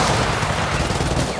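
Sniper gunfire in the video game Gears of War 4, heard as a dense, continuous barrage of loud shots and blasts filling the whole moment.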